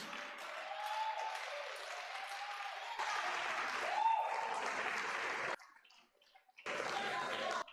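Audience clapping at a pastoral anniversary celebration in a church, a moderately loud, continuous wash of applause that briefly drops away near the end before resuming, with faint tones mixed in.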